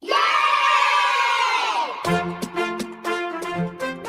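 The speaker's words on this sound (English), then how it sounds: "How much did you pay those kids to cheer like that" A classroom of children cheers loudly, a dense burst of screams and whoops that fades after about two seconds and gives way to bright music with sharp rhythmic hits.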